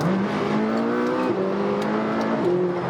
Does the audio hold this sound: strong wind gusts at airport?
no